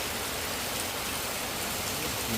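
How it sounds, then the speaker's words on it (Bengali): Steady rain falls in a dense, even wash of noise, close and unbroken for the whole stretch, with no voices. "বৃষ্টি হচ্ছে"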